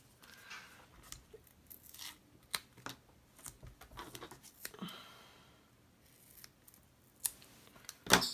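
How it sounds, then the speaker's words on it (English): Scissors cut through cardstock for Halloween cut-apart cards, sparse close snips and crunchy slices scattered among quiet stretches, with a sharper cut near the end. "My scissors are getting gummed up a little bit."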